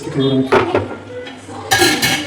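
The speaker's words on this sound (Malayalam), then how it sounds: "നമുക്കിതെല്ലാം കൂടി മിക്സ് കുറച്ച് തക്കാളി കൂടി ഇട്ട് കൊടുക്കാം" Chicken curry being mixed with added tomatoes in a pot, with close metallic scraping and clinks of a spoon against the pot in irregular bursts, the loudest near the end.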